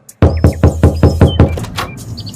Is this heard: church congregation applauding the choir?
no